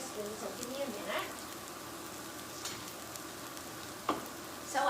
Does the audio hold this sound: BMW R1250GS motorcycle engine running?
no